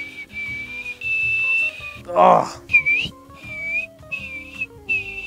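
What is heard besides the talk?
person practising a loud whistle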